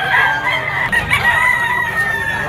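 A five-month-old young rooster, a stag, crows at a busy Malabon pet market, one strained, shrill crow running under the clucking of nearby fowl and faint market chatter.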